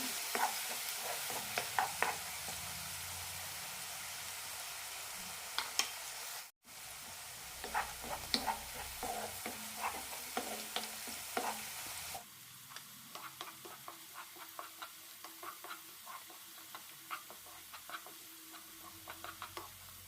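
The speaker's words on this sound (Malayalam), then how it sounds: "കുറച്ച് കൂടുതൽ കറിവേപ്പില ഇടണം മസാല നന്നായി റോസ്റ്റായി കിട്ടണം" Curry leaves and masala roast in a pan with garlic and ginger for a Kerala chicken pickle. A soft, close sizzle runs under repeated light spoon scrapes and taps, with a brief dropout partway and a quieter stretch near the end.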